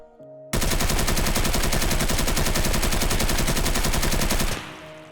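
Sustained full-auto fire from an unmodded AK-74 rifle in Escape From Tarkov, a loud continuous rapid burst of about four seconds with no pauses, then a short fading tail.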